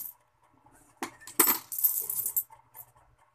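Coins dropping into a piggy bank, a few sharp metallic clinks and a short jingling rattle in a quiet room, with pauses between them.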